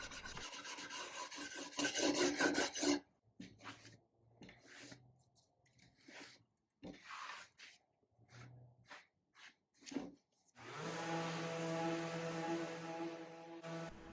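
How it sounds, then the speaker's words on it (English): Coarse, rasping scrapes of a wire brush along the wood grain of a dresser with mineral spirits, in bursts, a pause with soft rubbing and breaths, then another long stretch of steady harsh scraping close up. "use a little bit of mineral spirits and a wire brush to scrape it out the best I can"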